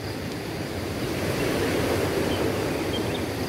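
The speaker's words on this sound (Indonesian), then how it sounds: "Nah, ini Pantai Bedalen, sebuah pantai" Surf at Pedalen beach, a fishing beach, heard as a steady broad roar of waves with wind rushing across the microphone, continuous and fairly loud throughout with no voices.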